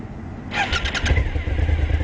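A motorcycle engine cranks and catches, a short burst of starter whine and sputter, then settles into a steady low idle rumble, close and fairly loud.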